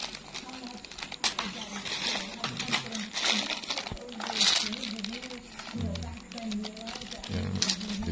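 Plastic packaging crinkling and rustling as a parcel of old antique marbles is unboxed, steady crackle with a few faint clinks, under continuous talking nearby.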